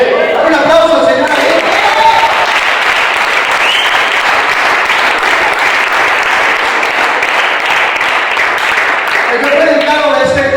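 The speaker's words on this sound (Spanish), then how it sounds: "Un aplauso, Señor." Loud, sustained applause from a church congregation fills about eight seconds, rising in quickly and tapering off at the end, with a few voices mixed into the clapping.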